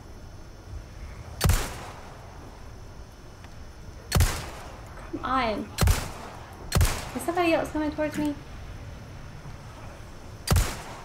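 Gunfire in the survival horror game Resident Evil 4, five sharp loud shots spaced irregularly across the stretch, with someone talking between and over the shots.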